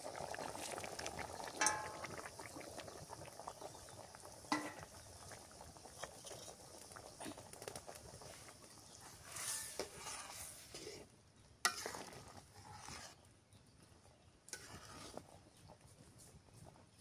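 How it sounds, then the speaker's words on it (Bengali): A fish curry with bottle gourd bubbles at a boil in a pot while fried fish is added and stirred in, with a soft continuous simmer broken by occasional scrapes and clinks of the spoon. "তরকারি বলক উঠে গেছে, এখন ভাজা মাছটা দিয়ে দিই।"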